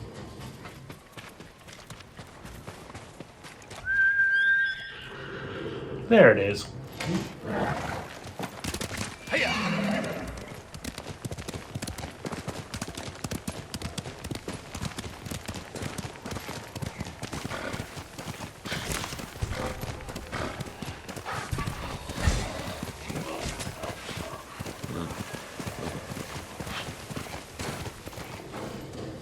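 A horse whinnies loudly in the video game Ghost of Tsushima, then hooves clip-clop steadily at a run, with a brief spoken line early on over the galloping.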